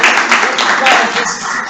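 A group at a meeting gives a loud round of applause for a colleague, dense clapping that starts at once, with voices talking over it.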